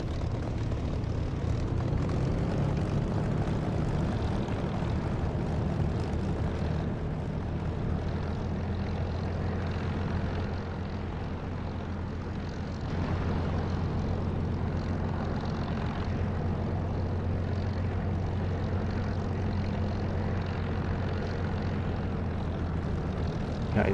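Steady, continuous engine roar of a Spitfire in the DCS flight simulator, lining up on the runway for takeoff, with a strong low hum holding through the whole stretch.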